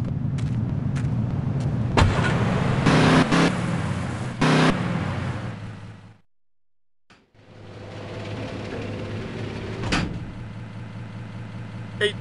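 Car in the game GTA Liberty City Stories, a continuous engine drone with thumps and clunks, dropping to a second of silence midway before the engine noise resumes, no talk heard.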